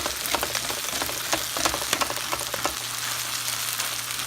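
Pork chop strips stir-frying with mushrooms in a hot pan, a steady close crackling sizzle with small pops throughout, no voices.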